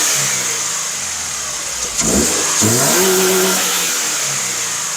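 A Subaru FRS engine fitted with a Grimmspeed intake idles, then gets a couple of quick revs that rise and fall before settling back into a steady idle, up close with no talking.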